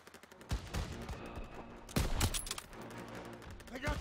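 Gunfire during the Stronghold mission of Call of Duty: WWII: sharp shots cracking at irregular intervals, with two stronger bursts standing out from a fairly quiet, busy battle background.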